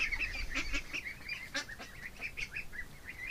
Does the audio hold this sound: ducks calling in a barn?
yes